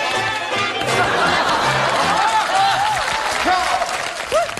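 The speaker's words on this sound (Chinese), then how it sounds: "咱们大伙一块给他鼓鼓掌" A studio audience at a Chinese comedy sketch show applauds a trained-dog act, giving a loud, continuous wash of clapping with chatter and scattered laughter mixed in.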